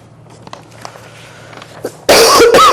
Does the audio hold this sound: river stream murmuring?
no